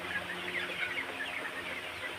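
Colour bird chickens on a farm give off a continuous, fairly soft stream of clucks and high chirps with no clear pauses, a busy flock sound heard at moderate distance.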